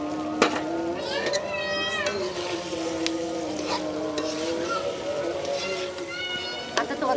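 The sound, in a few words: coral fish frying in a pan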